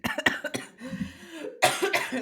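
A person with seasonal allergies coughs several times in quick, harsh bursts, close to the microphone, with a short quieter stretch of breathing between the fits.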